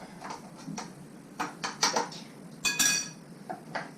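A utensil scrapes and clinks against a dish while stuffing for stuffed squid is mixed. The contacts are irregular, with a few sharper knocks, close by and fairly quiet, and no voice is heard.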